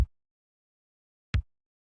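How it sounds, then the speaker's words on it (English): Two programmed kick drum samples from FL Studio, a Roland 808 and a 707, play one after the other in a sequenced beat: two isolated, punchy low thumps about 1.3 seconds apart, each decaying quickly into silence. "we've got the 808 and the 707, which respectively sound like this"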